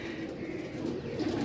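Small black pigeons coo softly for a brief moment, a low murmuring call set against a quiet background.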